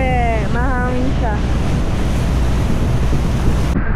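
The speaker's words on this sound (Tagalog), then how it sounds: "Hindi ko alam kung maririnig yung mga sasabihin ko ngayon kasi mahangin siya." Strong wind buffeting the microphone on an island by the sea, a loud continuous roaring rumble throughout, with a brief whistling tonal sound in the first second and a half.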